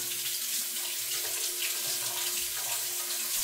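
Municipal tap water runs steadily from a faucet into a container, a continuous close, bright splashing hiss with no pauses for a few seconds.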